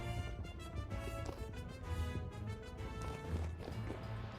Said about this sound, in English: I heard like loud footsteps.